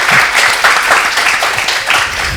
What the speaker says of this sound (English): Can we clap for ourselves?